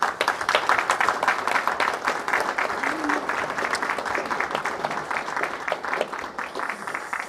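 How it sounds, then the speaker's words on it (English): Broadband applause that comes through a video call, a continuous mass of clapping at moderate level that holds steady for several seconds. "I hope you can hear the digital applause"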